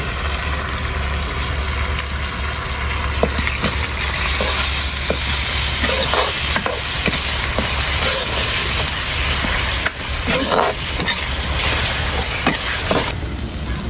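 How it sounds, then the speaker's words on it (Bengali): Spices such as turmeric and dried chili powder frying in a pan for a Bengali greens dish, a steady dense sizzle with occasional stirring clicks, loud and close throughout. "মশলা তো কিছুক্ষণ ভেজে নিয়েছি"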